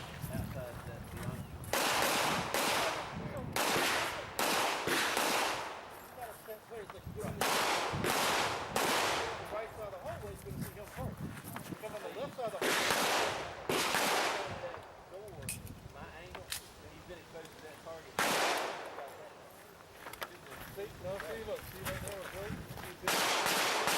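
A shooter runs an IDPA pistol stage at the Mecklenburg Wildlife Club, firing loud, sharp shots in quick strings with short pauses between, heard from close by on an outdoor range with voices now and then.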